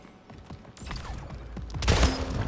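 Rapid bursts of gunfire in the arena shooter Splitgate, several sharp shots in quick succession rising to a dense, loud volley in the final second, with no talk.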